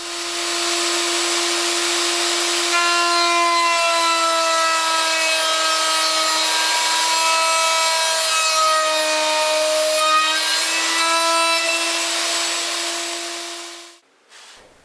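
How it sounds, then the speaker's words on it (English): A router bit cuts away wood from a face-down woodblock near its registration marks, giving a loud, steady high whine with a constant pitch that runs nearly the whole time, then spins down and stops near the end. "I've got the block face down and I'm moving it over the router bit to cut away the wood"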